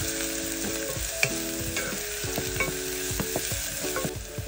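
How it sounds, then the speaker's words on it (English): Onions and green chilies sautéing in a pan for a Goan kingfish curry, a loud continuous sizzle with repeated clinks and scrapes of a spoon stirring, close up and with no voices. "Nicely saute these until they're nice and golden."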